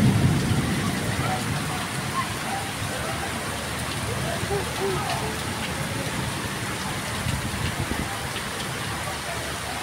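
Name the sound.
heavy rain during a thunderstorm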